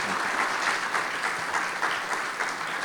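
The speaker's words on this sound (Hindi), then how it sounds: "ज़ोरदार तालियाँ।" Loud applause from a church congregation during a Hindi-language service: a continuous, even patter of many hands clapping for about three seconds.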